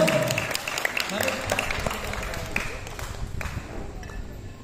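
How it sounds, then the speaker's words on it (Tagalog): Church congregation applauding during a Simbang Gabi night service, a steady wash of clapping with a few sharper claps, mixed with voices. "palakpakan naman natin si Lord kung excited kayo"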